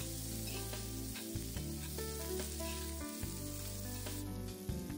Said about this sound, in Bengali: সর্ষের তেলের মধ্যে কালো জিরে, শুকনো লঙ্কা। ওটা যখন একটু ভাজা ভাজা হয়ে গেল, তারপরে ডুমো ডুমো করে কাটা পেঁয়াজগুলো দিয়েছি।